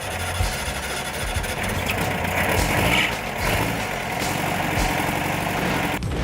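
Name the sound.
truck engine idling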